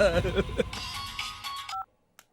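A telephone being dialed in a comedy scene, with a quick run of electronic key tones mixed under voices and music, ending in a short tone and a faint click, close and moderately loud.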